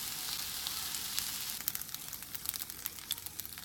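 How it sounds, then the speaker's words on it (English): Chicken fried rice with mushrooms and soy sauce sizzles and crackles steadily in a hot pan as it is stir-fried, with sharper spatula-stirring clicks and pops joining in over the second half. "So now we have added in the mushrooms and then mix everything together."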